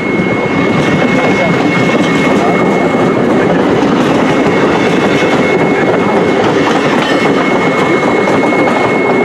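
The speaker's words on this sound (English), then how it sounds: "When the train leaves." NJ Transit ALP-45DP diesel-electric locomotive 4506 leading a passenger train through Allenhurst, a loud, close, continuous rail roar with rumbling wheels and clatter that holds steady throughout.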